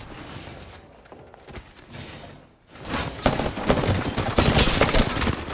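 Rapid gunfire from a battle royale shooter game with shields and a closing ring, quieter bursts giving way to a loud, dense stretch of shots and impacts over the second half.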